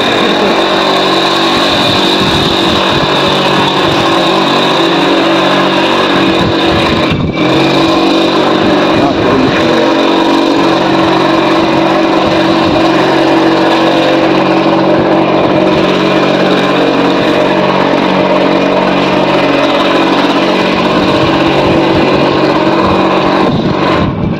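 A Luna moped's engine drones loud and close throughout a ride through a village, a steady buzzing hum with slight rises and dips, with voices heard over it.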